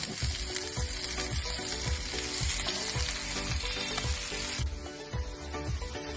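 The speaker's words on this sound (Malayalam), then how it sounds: "നമ്മളെ എണ്ണ ചൂടായിട്ടുണ്ട് അതിലേക്ക് നമുക്ക് കുറച്ച് ചെറിയ ജീരകം ഇട്ടെടുക്കാം" Cumin seeds with chopped ginger, garlic and green chilli sizzle loudly in hot oil, a steady dense frying crackle broken by regular stirring scrapes, with no voices.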